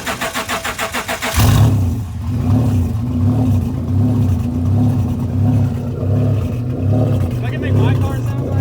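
A Honda Accord race car engine, built for speed and running loud and rowdy, rumbles close by after a choppy start, holding a deep, steady, pulsing idle with slight revving for several seconds.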